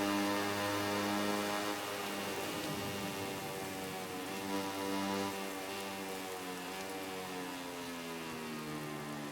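Rain falling during a race in the motorcycle racing game MotoGP 2019, a continuous even hiss laid over a steady droning bike engine, constant and fairly loud throughout.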